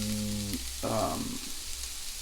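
Fish sauce, Chinese cooking wine and soy sauce sizzle in a hot pan for Singapore noodles, a steady close frying hiss with a brief louder burst as the liquid hits, then settling to a softer simmer.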